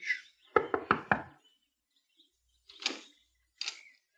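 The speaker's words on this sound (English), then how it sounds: "Within the hour, she was knocking at the door of a small shack on the outskirts of the village." Four quick, sharp knocks rap on the door of a small shack on a village's outskirts, followed by quiet and then two brief softer bursts of sound further on.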